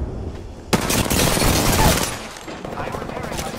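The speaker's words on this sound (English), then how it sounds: "The enemies are shooting at me." Enemy gunfire in the Apex Legends video game bursts in suddenly as rapid, loud automatic shots, then eases slightly and continues in a softer rattle.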